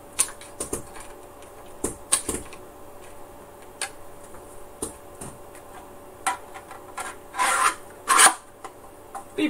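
Trimming excess plastic off a 3D printed part, heard as close, irregular scraping and rasping strokes with sharp ticks and clicks, growing longer and louder toward the end, with no voices.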